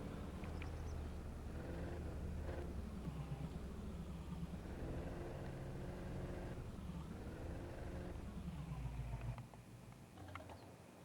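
Engine of a car driving in a 1980s-era farming simulator video game, a steady low drone with a few rising revs, continuous and close throughout before easing off near the end.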